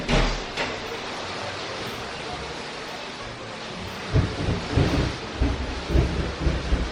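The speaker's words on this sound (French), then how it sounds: "Alléluia, il y a de l'orage." Thunder rumbles during a home thunderstorm with rain. A steady wash of rain and wind runs throughout, and deep thunder rolls swell louder in the second half.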